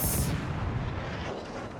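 Heavy booming warship gunfire in World of Warships, loud and dense, with a rumbling low end and a sharp blast at the start.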